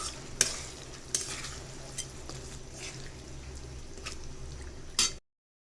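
Fresh shing fish and potatoes are sautéed in a pan, giving a soft, steady sizzle at low volume. Occasional sharp scraping stirs and clinks punctuate it before it cuts off abruptly.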